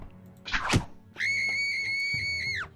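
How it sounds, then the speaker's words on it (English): A dying enemy's scream in the Eador Genesis video game: a short thud, then a loud, sustained shrill cry that holds steady for over a second before cutting off. "Best scream in the game."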